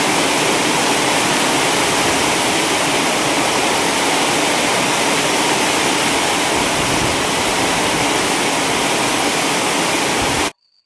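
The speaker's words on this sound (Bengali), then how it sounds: "যখন জোরে বৃষ্টি হয় আর টিনের চাল থেকে পানি পড়ে" Heavy rain pours off a tin roof as a dense, loud, unbroken rush of water that continues for about ten seconds before stopping abruptly.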